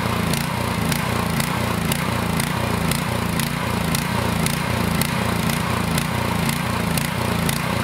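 A Troy-Bilt rear-tine tiller's small gas engine runs steadily until its carburetor empties, a loud, even, chugging drone with a regular pulsing beat throughout, close by and with no voices over it.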